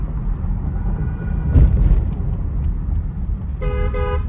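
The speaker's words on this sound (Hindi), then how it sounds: "हॉर्न भी देख सकते हो कितना सुनाई दे रहा है इधर से।" Traffic rumbles outside with a brief horn toot midway, then a louder car horn honks twice in quick succession near the end, heard through an open window of a Mahindra car.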